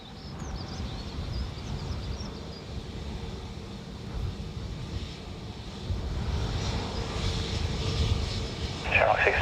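A Netherlands Air Force C-130 landing at Dublin Airport, a steady, broad engine roar that holds at mid distance and grows louder toward the end, with faint background chatter.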